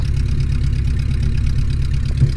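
A Luscombe light airplane's engine runs while it taxis down the runway, a loud, steady, low throbbing drone heard close by with no voices.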